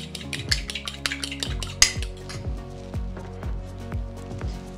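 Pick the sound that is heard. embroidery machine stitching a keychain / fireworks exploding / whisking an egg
whisking an egg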